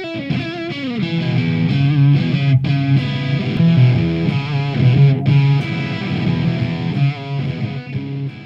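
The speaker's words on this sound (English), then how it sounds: "I plugged in both guitars to a DS1 to see which pickup could handle distortion better" Electric guitar played through a Boss DS-1 distortion pedal while comparing humbucker and single-coil pickups, giving a loud, continuous run of overdriven chords and sustained notes with no talking.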